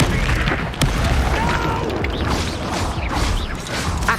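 Incendio fire spell cast during combat in the video game Hogwarts Legacy, a whooshing fiery burst with booming impacts inside a dense, continuous wash of battle effects.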